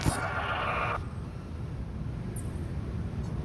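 A sheep bleats in the video game The Alters, a loud wavering call in the first second that fades into a steady low background hum.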